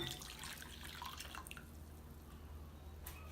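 Warm water poured into dry yeast and sugar while making beignet dough gives a faint, steady trickle with a few soft drips, quiet and close, with no talking.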